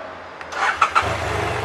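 A BMW F800 motorcycle engine cranks and catches after a short quiet moment, a few quick starter bursts giving way to a steady low idle that continues to the end.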